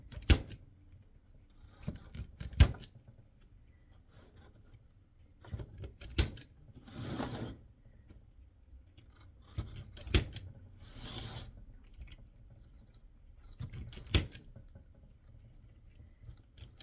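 Scissors make repeated short snipping passes in small clustered bursts spaced every few seconds, crisp and close with soft rustling between cuts.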